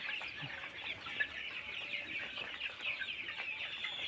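Many chickens cluck and chatter together in a steady, dense din in a poultry farm of about 1200 thirty-day-old colour bird chickens, with no voices over it.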